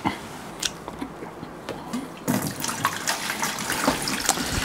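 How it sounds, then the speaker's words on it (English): A siphon draws water out of a home aquarium tank: quiet gurgles and drips at first, then a steadier splashing flow of water that continues close and moderately loud. "Siphon out a bit of water."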